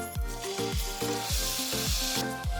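Onion paste hitting hot oil tempered with dried red chillies and nigella seeds, a bright crackling sizzle up close, with rhythmic low thumps running through it and a surge of spitting near the end.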